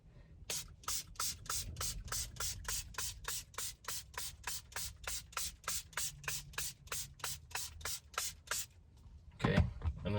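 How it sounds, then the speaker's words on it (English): A spray bottle of liquid solution pumped over and over onto a GMC Canyon screen, around thirty quick hissing sprays in a steady rhythm, close and fairly quiet, ending with a rustle. "we're going to take the solution and we're going to spray this down too"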